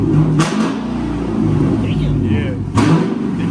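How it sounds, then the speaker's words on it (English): A Dodge Scat Pack's engine runs with a steady, deep rumble that swells slightly, heard from inside the car under loud conversation. "Rev that bitch."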